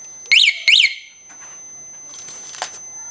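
Two loud, sharp warbling alarm chirps from a Suzuki GSX-R K2 motorcycle's aftermarket alarm, close and brief, followed by faint clicks and rustling.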